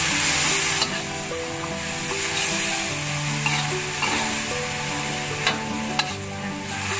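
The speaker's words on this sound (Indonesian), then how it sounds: "kita masukkan kecap asinnya. Nah, kita aduk rata dulu." Pork sizzles loudly in a pan with salty soy sauce while a utensil stirs, giving occasional clicks and scrapes over a continuous close hiss, with no talking.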